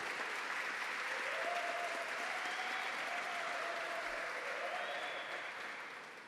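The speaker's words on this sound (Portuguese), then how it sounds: "pode ficar de pé para ser aplaudida, Ellen Vieira." Sustained applause from an indoor audience fills the room for the PL Mulher president of Rio de Janeiro's capital, steady and dense throughout before easing slightly at the end.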